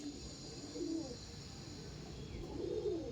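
Andhra pigeons coo softly and fairly close by, two low, rolling coos separated by a pause, over a light background hiss with no talking.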